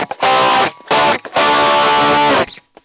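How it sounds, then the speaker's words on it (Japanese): Electric guitar, an LA-240KK with EMG pickups, distorted through a Marshall Guv'nor booster pedal into a BOSS GT-1, playing three loud, thick chord bursts with short gaps between them. "このマーシャルガバナーを使っていきたいと思います。"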